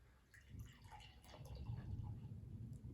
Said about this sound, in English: Pouring out, it's very golden, yellow in color here.